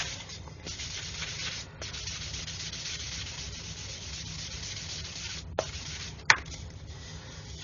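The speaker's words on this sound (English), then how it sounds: "I can get my finer stick now and just give that a polish" A fine sanding stick rubs steadily along a seam on a Revell 1/144 Apollo Saturn V plastic model kit, a continuous close scratchy swish broken by a couple of sharp little clicks near the end.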